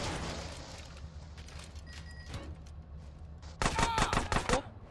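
Rapid bursts of gunfire in GTA San Andreas Definitive Edition on PC crackle loudly near the end, after quieter stretches of scattered shots over a low engine-like hum.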